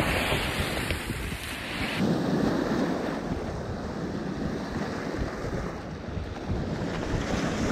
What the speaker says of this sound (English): come out to Canton when you get a 20-mile-an-hour north wind